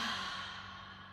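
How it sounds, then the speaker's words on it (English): A single deep, slow exhale, soft and close like a sigh, taken while standing at the end of an aerobic flow workout. "Take 3 deep breaths, seal it in."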